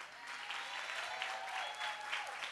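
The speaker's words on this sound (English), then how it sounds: "Can we get a round of applause for the MC?" Applause at a women's brunch greeting the MC, a soft, distant patter of clapping from a modest crowd, steady and even for a couple of seconds.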